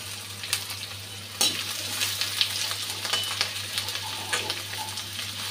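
Onion and chopped ginger sizzle in hot oil with chicken, a steady close frying hiss with crackles and pops plus a faint low hum underneath.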